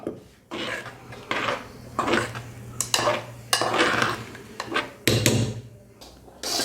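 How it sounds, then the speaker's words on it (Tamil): A spoon stirs coconut paste into cauliflower and green pea kurma in a metal pot, giving repeated close scraping and clanking strikes in an uneven rhythm, with short pauses between bursts. "தேங்காய் பேஸ்ட்டு தேங்காய் உடச்சிக்கல்ல பேஸ்ட்டு போட்டு நல்லா கலக்கி விட்டுக்கலாம்"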